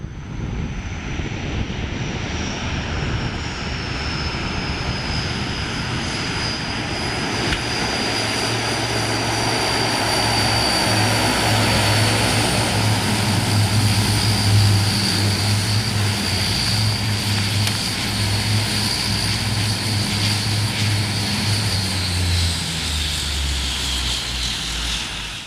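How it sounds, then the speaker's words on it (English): Ilyushin IL-18 turboprop engines roar loudly and steadily at takeoff power on the airstrip at Cabinda, West Africa, with a deep propeller drone and a high whine that builds and then stays constant for the full length before the takeoff is aborted. "The engines roared in a desperate bid for ascent."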